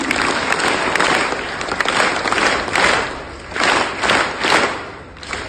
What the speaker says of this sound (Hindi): शानदार तालियां हो जाए इस भैया के लिए।